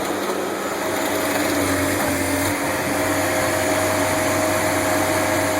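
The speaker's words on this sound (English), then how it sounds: "That's Sean on the directional boring machine." A directional boring machine's engine runs steadily and loudly at a job site for a geothermal earth loop, a constant droning hum with a faint whine and no pauses, close and alone.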